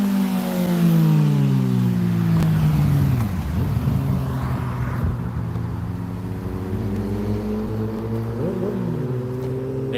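A mid-pitched motor engine revs steadily and close by, its pitch rising and falling in smooth sweeps over a continuous whir.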